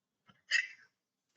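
A single short sneeze in a quiet room, preceded by a faint quick intake of breath, fairly soft and close.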